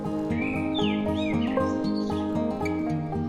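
Birds chirp on Keshar Parvat, a hill in India, with a few short rising and falling tweets scattered over a steady tonal background, fairly close and moderately loud.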